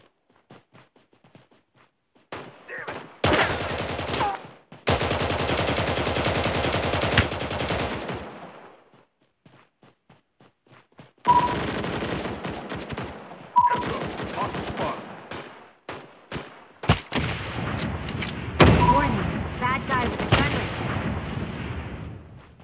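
Gunfire in the battle royale game Omega Legends: long loud bursts of automatic fire and repeated single shots, separated by short quiet gaps.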